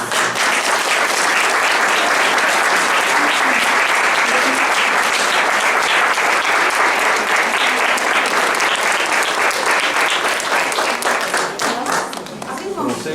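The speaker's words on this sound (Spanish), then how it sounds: "un fuerte aplauso para todos." An audience gives loud, sustained applause after a school theatre production, dense clapping filling the room steadily for about thirteen seconds before thinning slightly at the end.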